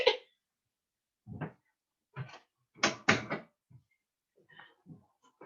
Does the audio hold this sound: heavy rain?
no